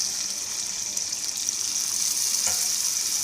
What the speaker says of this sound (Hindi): अब हमने जितनी ग्रेवी रखनी है उतना हम इसमें पानी ऐड कर देंगे